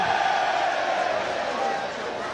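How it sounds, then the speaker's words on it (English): Rugby league crowd at a Wakefield Trinity versus Leeds Rhinos match cheering, a broad, sustained roar from a large stadium audience that eases slightly toward the end. "I'm guessing with that cheer, someone in the crowd just caught that ball on the full as the kick for touch"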